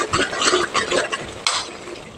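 A spoon scrapes and stirs through a thick, bubbling fenugreek curry (vendhaya kuzhambu) in a pot, with steady sloshing and light metallic clinks throughout.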